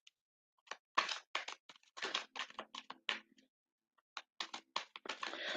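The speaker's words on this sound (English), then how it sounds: "You need a really good shuffle." Tarot cards being shuffled at a reading table, giving bursts of quick papery riffles and flicks in uneven clusters with short pauses between them, close and fairly quiet, with no talking.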